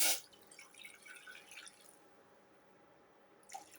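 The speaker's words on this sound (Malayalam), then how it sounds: "ആദ്യമേ തിളപ്പിച്ചാറിയ വെള്ളം ശകലം ഒഴിക്കുക" Cooled boiled water pours in a short trickling stream into a pot, splashing for a couple of seconds before stopping.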